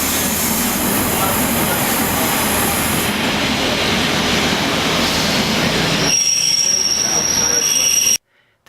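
A Class 153 diesel unit on the Cardiff Bay shuttle line rolls along with loud, steady rumbling and high wheel squeal for about eight seconds before cutting off abruptly.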